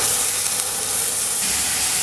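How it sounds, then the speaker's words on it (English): A basa fillet sizzles in a pan of hot olive oil, giving a steady, close, even hiss that carries on without a break and with no talking. "Now I'm going to put the basa fillet on the pan."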